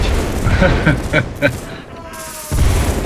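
Musket volleys crack and rumble across a line-battle video game, a few dull booms and crackling shots mixed in with nearby voices talking over them.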